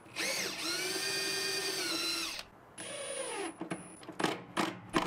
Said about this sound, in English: I drilled some pilot holes, and then I glued and screwed it in place to the longer rails.